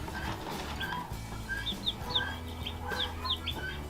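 Tiny Freedom Ranger chicks cheep in a brooder, giving a stream of high, thin peeps in quick scattered bursts at close range over faint low background noise.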